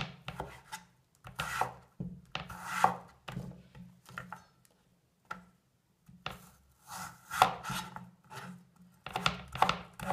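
Knife cutting and scraping the chewy skin off a huge zucchini, repeated rough rasping strokes in uneven bursts with short pauses between them, close and fairly quiet, with no talking.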